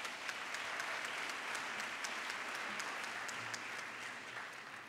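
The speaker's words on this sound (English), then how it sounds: "Give yourself a round of applause." Steady applause from an audience of students at a high school awards ceremony, a dense, even patter of many hands clapping that holds for several seconds with no talk over it.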